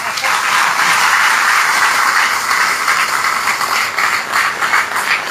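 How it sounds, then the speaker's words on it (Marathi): Dense, steady applause from a crowd, sustained throughout with a few voices mixed into the wash of clapping. "त्या खऱ्या टाळ्या माझ्यासाठी येत आहेत"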